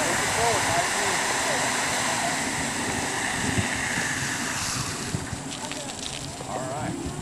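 A fire hose from a firetruck sprays water in a steady outdoor rush with wind noise, while someone talks over it.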